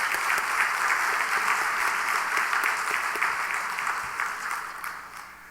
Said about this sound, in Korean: 우리 감사의 박수를 올려드리겠습니다